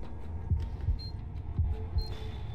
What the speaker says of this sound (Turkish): Kalp atışlarımızı kontrol edip ses çıkarmamaya çalışıyoruz şu an.